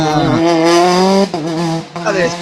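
Peugeot 208 R5 rally car on a closed stage of the Rallye Mariña Lucense braking hard, a loud harmonic engine note dropping as it slows, with a commentator talking over it.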